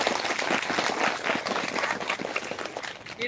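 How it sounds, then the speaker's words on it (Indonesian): Crowd applause fills a gathering where inspirational Muslim converts and preachers are honored, a steady, dense wash of clapping that holds at even loudness from start to end. "Tepuk tangan."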